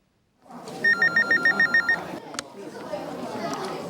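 Telephones at a health bureau call centre give a rapid run of electronic ring pulses, fairly close, then stop, after which office chatter and voices carry on in the background.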